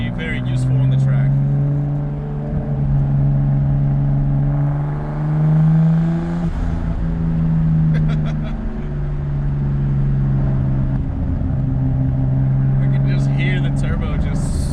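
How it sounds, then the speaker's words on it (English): A Nissan Skyline GT-R or GTS-t turbo engine pulls and revs steadily with a low droning note that swells and eases, a brief turbo whoosh between, heard from inside the car. "Turbo just sucking air away."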